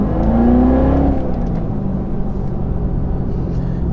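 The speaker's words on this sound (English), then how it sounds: "You get a little bit of supercharger whine" A 2018 Chevrolet Corvette C7 Z06 Carbon 65 accelerating hard, a loud, close engine roar with a rising supercharger whine sweeping upward over the first second before settling into a steady rumbling drone.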